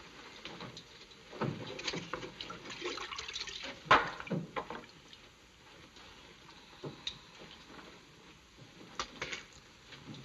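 Liquid poured from a flask in a scene from the 1948 western film Fort Apache: faint, intermittent splashing and trickling against a hissy background, with a brief louder burst midway.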